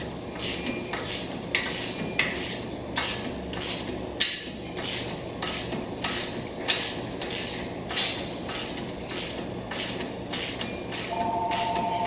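Repeated clicking strokes of a ratchet tightening a suspension bolt and spacer into a uniball on a 200 Series Land Cruiser. The clicks come close and regular, about one burst every half second, with no talk.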